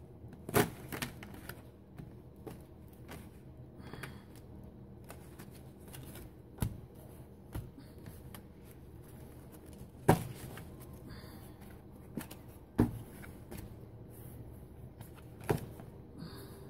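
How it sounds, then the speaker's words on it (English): Playing cards being mixed and shuffled by hand at a card table for a trick-taking game, heard as faint, irregular papery rustles and scattered sharp snaps and clicks, with no talking. "Just mix the cards up a bit here."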